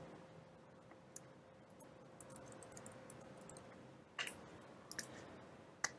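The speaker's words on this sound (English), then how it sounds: "So let me just quickly type in my email." Faint, scattered key clicks on a keyboard while an email address is typed, soft irregular taps over a low steady hum, with a few slightly louder presses near the end.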